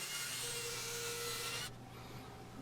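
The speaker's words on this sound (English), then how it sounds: "A little bit of sanding" Steady abrasive rubbing of sandpaper on a wooden dowel, a continuous rasping hiss that stops abruptly, leaving a quieter hum behind.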